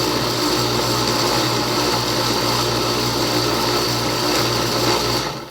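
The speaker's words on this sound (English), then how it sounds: "You can see it's moving now, and it's not all stuck to the top of the jar anymore like it was. So far my motor's doing okay." An Oster Dual-Action blender grinds nut butter in a jar, its motor giving a loud, steady whirring drone with a constant hum that runs unbroken until it cuts off at the end.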